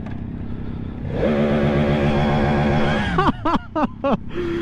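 A Yamaha R1 motorcycle in first gear at full throttle, its engine climbing in a loud, steady rising whine, then cutting into a quick series of sharp, stuttering revs close by.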